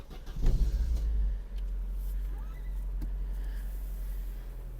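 A 2007 Daewoo Lanos engine cranks and catches, then settles into a low, steady idle hum that continues, with no one speaking.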